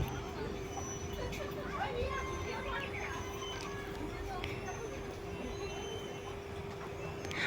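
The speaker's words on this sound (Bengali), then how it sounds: "আর ট্রেন হর্ন বাজিয়ে এবার ছুটে চলেছে" A toy train running in a park, heard faint and distant as a steady mechanical hum with a sustained tone, under background crowd chatter and occasional birds.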